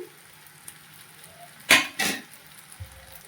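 Green and red chillies dropped into a hot frying pan, giving two quick, close hissing sizzle bursts against a quiet kitchen background.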